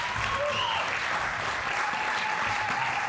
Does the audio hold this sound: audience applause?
yes